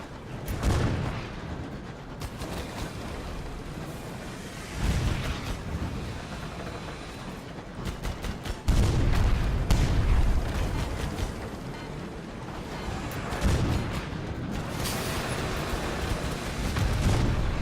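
Cannon fire from an enemy airship in the steampunk space game Sunless Skies, booming blasts recurring every few seconds over a continuous rumbling engine drone, loud and close.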